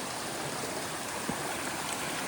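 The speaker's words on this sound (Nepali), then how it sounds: "चिसो पानी होइन यस्तो कल कल कल बगेको" Cold water flowing in a mountain stream on a Mount Moak hiking trail in South Korea, a steady broadband rush and babble, close and continuous, with no talk.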